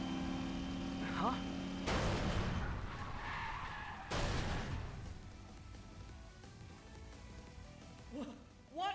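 Race cars skidding out of bounds in a video game race, loud sustained tire screeching and rumbling surges with abrupt bursts, mixed with game effects and voice sounds.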